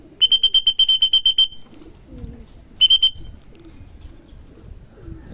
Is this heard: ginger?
no